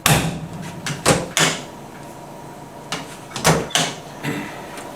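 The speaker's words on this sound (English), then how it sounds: "The cabinets are made to be closed hard, slammed open and shut." Doors on a mobile decontamination cabinet unit are banged open and shut in a quick series of hard thumps and rattles, some clustered close together, loud and near.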